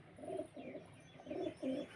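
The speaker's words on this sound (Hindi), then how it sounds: "गाइस, ये दूसरा कबूतर है" Pigeons in Karachi, Pakistan cooing softly nearby, four low rounded coos in two pairs within two seconds, quiet and alone.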